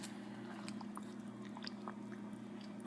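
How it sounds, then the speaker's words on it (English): Wet Aida fabric is squished in tea to push out air bubbles, giving faint soft squelching and small liquid clicks over a steady low hum. "Push out the air bubbles"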